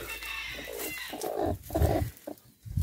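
A free-range hen clucks softly near a newly hatched bantam chick, close and fairly quiet, with soft rustling and short bursts of clucking.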